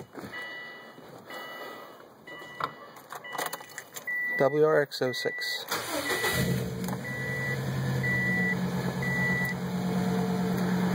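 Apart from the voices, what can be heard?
Subaru WRX car engine starting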